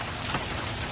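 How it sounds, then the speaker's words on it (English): Big chunks of hail, golf ball-sized, falling in a severe thunderstorm in Edwardsville, Illinois, a dense, loud, continuous clatter and hiss across a surface for under a second. "there's some big-ass chunks of hail going on"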